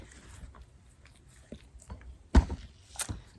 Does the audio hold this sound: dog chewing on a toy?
yes